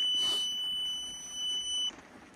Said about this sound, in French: sur le téléphone, j'ai aussi l'alarme qui s'est déclenchée